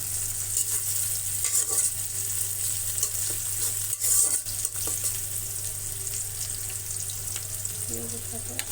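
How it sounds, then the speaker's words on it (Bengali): Onions frying in a pan for a home-cooked Bengali dish, just after fried potatoes are removed: a steady, close crackling sizzle that runs throughout with no talking. "এখন পেঁয়াজগুলো ভেজে নেবে"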